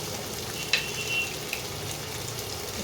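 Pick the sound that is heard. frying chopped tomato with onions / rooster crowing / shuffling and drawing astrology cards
frying chopped tomato with onions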